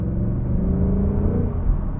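Steady, deep engine drone and exhaust rumble from a 2022 Ford Mustang Mach 1 on the move, a continuous low growl at even throttle with no voices.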